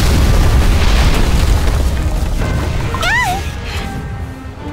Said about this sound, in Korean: 이 폭발은 뭐지?